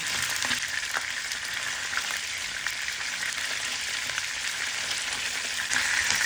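White tofu pieces frying in hot oil, a steady, dense sizzle with crackling pops, close and even throughout with no voices over it.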